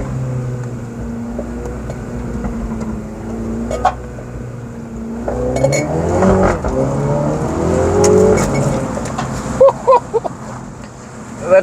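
A Mini Cooper JCW accelerates hard on a bumpy road, its exhaust climbing in pitch through the revs and then crackling with a few sharp pops and bangs as the throttle lifts, heard loud from inside the car.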